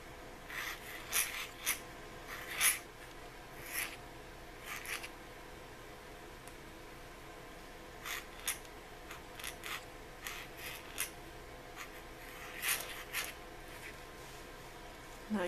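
A pointed calligraphy pen scratches iron gall ink onto paper in short, crisp strokes, a series of faint close scritches spaced irregularly with quiet pauses between them.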